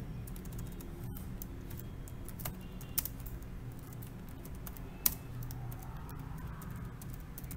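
Steady, fairly quiet clicking of fingers typing on a computer keyboard runs throughout, with a couple of sharper key strikes standing out.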